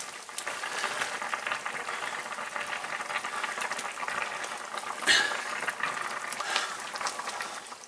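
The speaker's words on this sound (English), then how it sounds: "Now it's bubbling away nicely." A pot of Welsh cawl stew with potatoes bubbling away on the hob with the lid lifted: a soft, steady simmer of small pops and gurgles at moderate loudness, with no talking.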